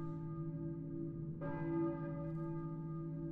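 A church bell in Silent Hill tolls once with a resonant struck clang that rings out into a long humming decay, moderately distant and heard over a droning background.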